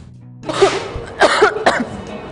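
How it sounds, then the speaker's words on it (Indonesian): A woman coughs close to the microphone in a quick cluster of harsh coughs, then two more spaced bursts, in a quiet indoor setting. "Dari tadi aku nggak berhenti batuk"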